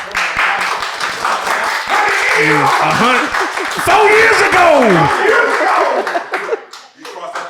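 A studio audience claps for a guest, crisp close handclaps in a lively burst that tapers off near the end, while several people talk and laugh over it.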